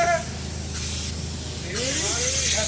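A loud, steady hiss of spray foam bursts out of a spray gun in pulses, with a short break, while voices talk faintly in the background.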